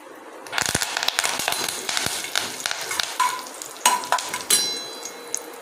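Peanuts and curry leaves sizzle in hot oil in a pan for upma, with sharp spitting crackles and bursts of pops over a continuous frying hiss.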